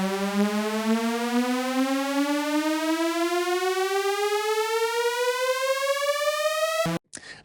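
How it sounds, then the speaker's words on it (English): A tonal synth uplifter made with pitch bend, a sustained buzzy tone sweeping steadily upward for about seven seconds before cutting off abruptly, loud and alone. "And then we've got our tonal uplifter."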